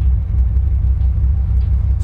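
A 1975 Corvette Stingray engine rumbles steadily at idle, a loud, close, continuous low-pitched throb with a slightly uneven pulse and no talk over it.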